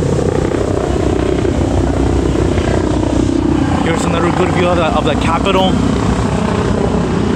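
Loud, steady rotor and engine roar from a low-flying helicopter overhead in downtown Austin near the Capitol, filling the whole clip, with a person talking over it.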